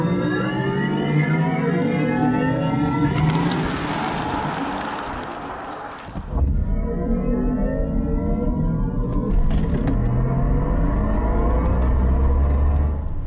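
A Mercedes-AMG EQS 53 electric car accelerates hard, its rising electric whine climbing steadily with road and wind noise, easing off briefly before surging again.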